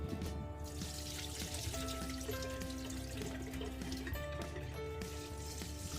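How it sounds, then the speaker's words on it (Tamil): Water pours over idli rice soaking in a vessel, a continuous faint trickling stream, quiet and close, with no voices. "அரிசி ஊற வைக்கிறதுக்கு தேவையான தண்ணி சேர்த்திக்கலாம்."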